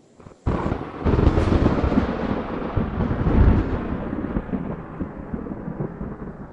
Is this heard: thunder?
yes